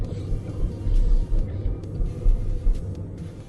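Land Rover Defender 110 Commercial crawling off-road toward a steep rocky descent, a steady low cabin rumble of engine and tyres with small bumps and no talking.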